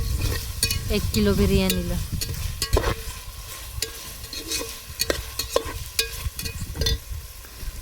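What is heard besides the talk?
sliced tomatoes cooking in oil for biryani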